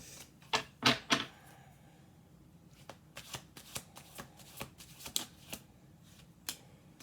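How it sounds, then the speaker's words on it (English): Tarot cards being shuffled on a table in quiet bursts of riffling flutters and soft slaps, some close and crisp, spread irregularly across the stretch with no talking. "We're going to do 2 more shuffles."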